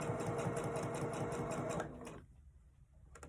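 A sewing machine hems cut fabric pieces for a cross-body bag, running loud and steady for about two seconds before stopping, leaving a quiet room.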